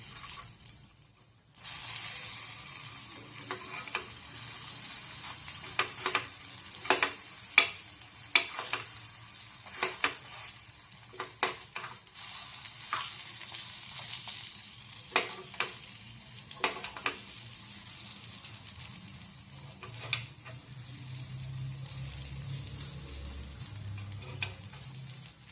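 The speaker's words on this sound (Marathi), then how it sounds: "आणि आपण हे छान शेकून घेणार आहोत. हे अलटीपलटी करत राहायचं आहे मधून." Palak paneer balls frying in a pan, a soft continuous sizzle broken by clicks and scrapes as they are turned over, moderately quiet and without talk.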